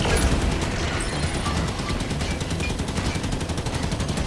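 Sustained automatic gunfire aimed at a turret in the Halo 5: Guardians campaign on Legendary difficulty, loud and continuous with rapid rhythmic bursts and no pauses.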